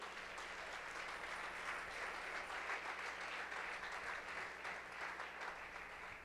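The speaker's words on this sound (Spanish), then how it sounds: "Dale un aplauso al Señor." A church congregation applauds during a worship service, giving steady, dense clapping that fills the room without a break and stays fairly even in loudness throughout.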